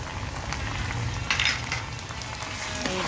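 Ginger and spices sizzle and fry in a pan while being stirred, a steady dense crackle with brief scraping accents of the spoon, close and continuous with no talking.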